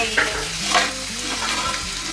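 Garlic fries in oil, sizzling and crackling steadily in a pan close by, with occasional stirring scrapes and no talking.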